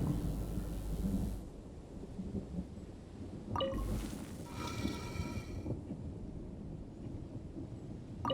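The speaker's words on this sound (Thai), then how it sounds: "ข้างนอกก็ฝนตก" Rain falls steadily in the video game Genshin Impact while rolling thunder rumbles low and long, with a couple of sharper cracks breaking through midway.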